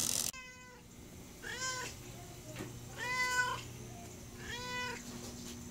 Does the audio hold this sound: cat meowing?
yes